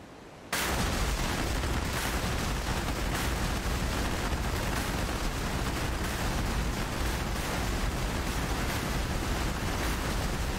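Bombs dropped from an F-16 Viper explode in the DCS flight simulator, bursting in abruptly after a brief quiet moment and then rolling on as a loud, dense, sustained barrage of blasts and rumble.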